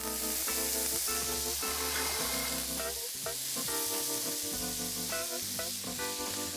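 Calf liver sizzles in fresh butter with a few drops of lemon in a pan, a loud, continuous crackling hiss from close by, with steady tonal music underneath.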